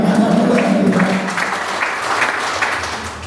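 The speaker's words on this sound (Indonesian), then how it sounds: "Berikan tepuk tangan kepada Tuhan" A church congregation claps to praise God, a loud, dense wash of applause that fades slightly, with a voice calling briefly near the start.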